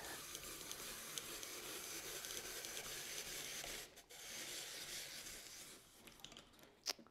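An apple is peeled and cored with a crank apple peeler for apple pie filling, a steady close scraping rub that runs continuously, pauses briefly, then carries on and ends with a small click.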